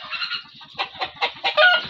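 A chicken clucking close by outdoors, a run of quick rhythmic low clucks that rises into several louder, sharper squawks near the end, with no speech.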